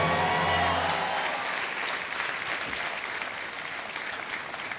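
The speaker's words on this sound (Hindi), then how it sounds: "तालियां बजती रहे देवियों सन्नो।" Studio audience applause on a TV game show set, steady and loud for nearly five seconds, a dense wash of many hands clapping together that fades slightly toward the end, with music briefly underneath at the start.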